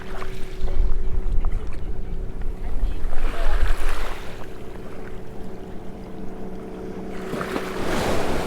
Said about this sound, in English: Sheesh, these boats really stir up that water.